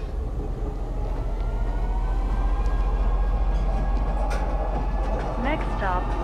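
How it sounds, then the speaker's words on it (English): Metro train in the Star Citizen video game, a steady rumbling ride with rail hum and rising whine, brief squeals and tonal chirps near the end, alongside a person talking. "Ooh, I just made that train."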